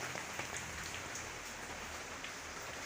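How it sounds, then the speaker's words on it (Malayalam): Light rain falls outdoors in Kannur, Kerala, during a red-alert monsoon spell, making a soft, even hiss of drops with no voices. "നല്ല കോസി വെതർ എന്ന് വെച്ചാൽ നല്ല ചെറിയ മഴ."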